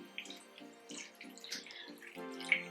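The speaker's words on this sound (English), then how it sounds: "I'm just going to add a little bit of water." Water pours and splashes unevenly into a cooking pot in short bursts, fairly quiet and close, with no talking.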